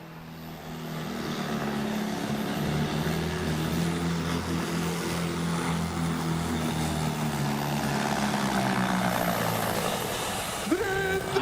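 A Fiat pulling tractor in the pull-off at a tractor pulling event gives a loud, sustained engine roar with strong harmonic drone that rises and holds, then the revs drag down near the end; nearby talk is faint.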